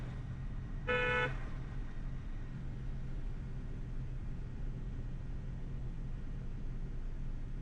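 A single short car horn toot sounds from a car on a main road during a driving lesson, followed by a low steady engine and road rumble inside the vehicle.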